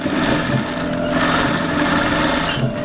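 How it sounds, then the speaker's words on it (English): A sewing machine stitches a closed slit across the front of a garment, a loud, steady, close mechanical whir with rapid needle chatter running unbroken throughout, with no talk. "The stitch I'm making now is running only on top of the front"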